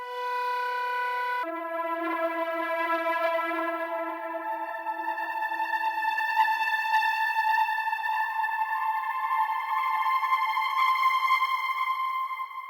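A synth swell pad drenched in shimmer plate reverb, auto-panned and swept by an auto filter, rising as a bright sustained chord for a melodic techno track; a single steady layer that thickens with airy high overtones, alone and fairly loud.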